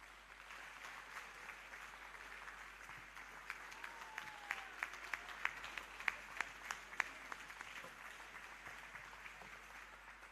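Audience applause at an annual general meeting and scientific conference, faint and distant, with scattered claps building into a steadier patter midway before thinning out again.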